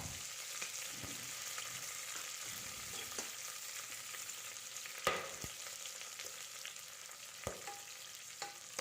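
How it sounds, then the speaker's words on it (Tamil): Mint leaves sautéing in a pan for ghee rice give a steady, close sizzle, broken by occasional sharp stirring clicks and scrapes from the spoon; no voices. "லேசாக வதக்கிக்கோங்க."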